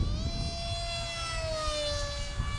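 Hobby King Bonsai 600mm RC flying wing passing at full speed against the wind, its electric motor a high, whining buzz with rich harmonics that sweeps downward in pitch as it goes by, heard alone over faint breeze.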